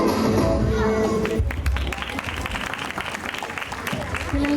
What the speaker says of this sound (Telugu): మీ అందరు చప్పట్లు కొట్టండి. కొట్టినందుకు వందనాలు.